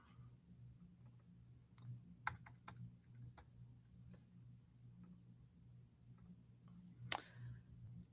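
Sparse clicks of typing on a computer keyboard, a few isolated keystrokes spaced irregularly over a quiet background with a low hum, plus one sharper click near the end.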